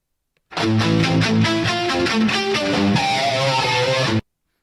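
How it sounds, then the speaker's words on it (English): Heavily processed electric guitar with dense distortion and shimmering effects, playing a fast continuous riff of sustained notes, loud and full. "There's a number of effects on that guitar sound."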